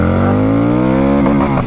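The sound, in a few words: Harley-Davidson Street 750 motorcycle engine revving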